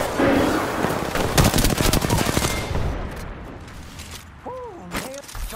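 Rapid automatic gunfire in the shooter game Apex Legends, close and loud, fades into scattered shots and a few rising electronic tones.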